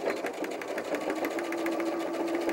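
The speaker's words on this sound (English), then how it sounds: "I like to stitch over the strap a couple of times just to make it a little bit" Close, continuous rapid chatter of a sewing machine running stitches back and forth over a doll backpack strap, steady and even throughout.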